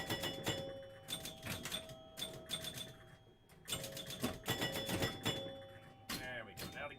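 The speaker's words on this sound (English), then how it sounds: "Now these machines literally have doorbell chimes in them. That's what you're hearing." Bright doorbell-chime tones from a 1972 Gottlieb Pro Football pinball machine ring out repeatedly amid busy mechanical clatter and electronic game noises, with bursts of ringing and rattling throughout.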